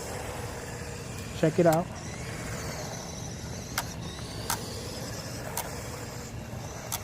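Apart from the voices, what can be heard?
GPTOYS McGruff S926 1:12 RC truck driving and drifting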